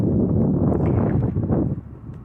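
Strong wind buffets the microphone beside a parked van on Humboldt Bay, a loud, steady low roar with gusty swells that eases off slightly near the end.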